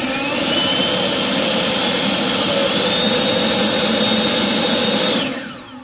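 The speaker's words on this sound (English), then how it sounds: "you put it on full throttle, and then hit the turbo, and listen to this." A loud, steady high-pitched whine and roar of an AiDot Enhulk 930 cordless leaf blower running at full throttle on turbo, cutting off and winding down in the last second.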